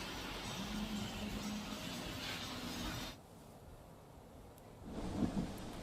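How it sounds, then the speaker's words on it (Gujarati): Rain falls as a steady, soft hiss that thins for about two seconds and then swells back, with a low rumble under it. The shower is a pre-monsoon one in the Amreli district of Gujarat, and no voices are heard. "ધીમી ધારે આ વરસાદ વરસી રહ્યો છે"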